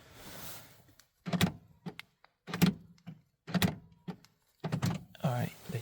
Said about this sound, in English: If you hear the lock and unlock by itself, that means program.